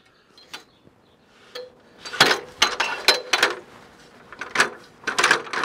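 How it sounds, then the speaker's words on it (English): Metal set screws being tightened on a Starlink pipe adapter, a series of sharp, close clicks and scraping ticks in irregular bursts, with no talking. "it's got 6 set screws that go in here to tighten down to the pipe to hold it in place"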